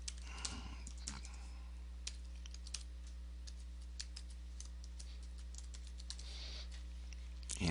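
Keys on a computer keyboard are tapped while a folder name is typed. The quiet, sparse clicks come in short bursts over a low, constant room hum, with no talk.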